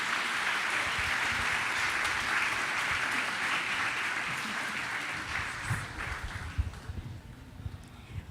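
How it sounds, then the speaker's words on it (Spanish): A church congregation applauds during a Sunday service, a full, steady roar of clapping that thins out and fades after about five seconds, leaving scattered handclaps and room noise. "les voy a pedir por favor que le demos un fuerte aplauso a Lady."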